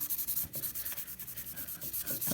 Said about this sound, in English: I got sandpaper. See, that one's coming out pretty nice.